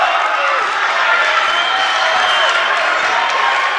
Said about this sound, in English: the Widener crowd is getting into it